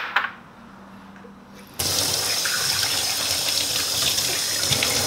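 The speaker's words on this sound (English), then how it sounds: "Give it a nice rinse over water." Tap water starts abruptly after a quiet moment and runs in a steady, loud gush as a removable part of a home espresso machine is rinsed under it.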